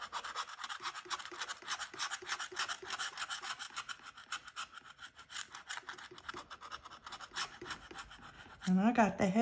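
Rapid scratching on a lottery scratch-off ticket with a heavy-duty scraper, a continuous close raspy scraping with quick repeated strokes, fairly quiet, ending in a brief louder rustle.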